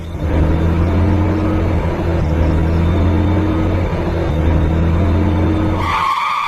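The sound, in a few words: car braking hard and skidding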